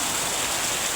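Steady rain falls outdoors in Karnataka while rainwater collects for drinking, a dense continuous hiss that stays even and close throughout, with no voices over it.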